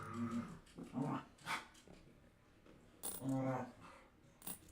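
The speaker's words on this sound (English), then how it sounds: "And of course, you can hear my dogs." Dogs bark and growl indoors in short, loud, intermittent bursts, with gaps of quiet between outbursts.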